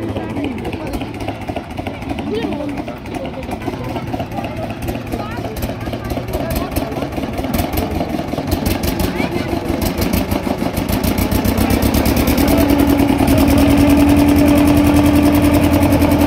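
A motorboat engine on a river trip from Canning to Gosaba chugs steadily, rising in pitch and loudness into a strong droning whine near the end, with people talking over it.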